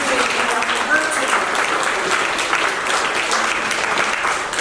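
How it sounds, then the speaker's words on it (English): A dinner audience at a peace action event applauds steadily and loudly, a dense continuous wash of clapping with no letup throughout. "let's have another round of applause"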